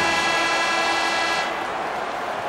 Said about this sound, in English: The first period is all said and done with as the horn sounds.